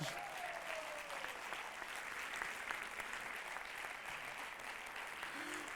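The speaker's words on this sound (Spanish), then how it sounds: "Fuerte aplauso a nuestro director que estaba ahí" Steady, dense applause from a gala audience honouring a director, continuous and moderately loud throughout, with many hands blending into a broad wash and no talk over it.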